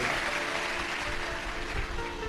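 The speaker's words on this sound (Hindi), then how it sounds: "एक बार जोरदार ताली बजाकर संतों के लिए।" A crowd of devotees claps steadily and densely for the saints at a live Shiv Mahapuran katha in Kashi, a continuous wash of applause with no pauses.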